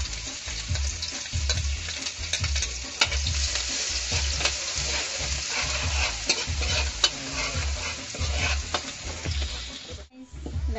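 Chopped garlic sautés in a pan for homemade carbonara, a continuous close frying crackle with rhythmic stirring and scraping thuds throughout. The sound stops briefly just before the end.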